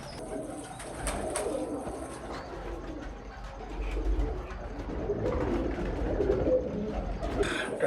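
Teddy pigeons coo nearby, soft low throaty calls repeating over a murmur of background noise.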